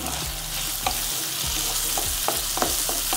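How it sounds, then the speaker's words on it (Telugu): Ginger garlic paste and turmeric being mixed in a pan with potatoes for kalagalupu kura, a spoon scraping and tapping the pan in a quick rhythm over a constant close sizzle. "1/2 టీ స్పూన్ వరకు పసుపు ఇలా వేసుకొని వీటిని ఒకసారి బాగా కలిపేసుకుందాం"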